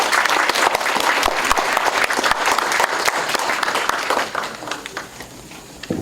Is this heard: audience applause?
yes